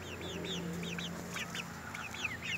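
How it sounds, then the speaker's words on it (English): Young homestead chicks peep and cluck softly in a quick series of repeated high chirps over a steady low background hum, with no talking. "Oh, look at the other two chicks."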